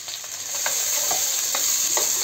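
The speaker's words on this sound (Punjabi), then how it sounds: "ਲਸਣ ਭੁੰਨਾਂਗੇ ਆਪਾਂ, ਨਾਲ ਹੀ ਆਪਾਂ ਹੁਣ ਅਦਰਕ ਹਰੀਆਂ ਮਿਰਚਾਂ ਅਤੇ ਨਾਲ ਹੀ ਪਿਆਜ਼ ਪਾ ਦਾਂਗੇ" Garlic, ginger, green chilies and onion fry in a pan for a fresh fenugreek bhurji: a loud, steady close-up sizzle with regular stirring scrapes about every half second. No one speaks.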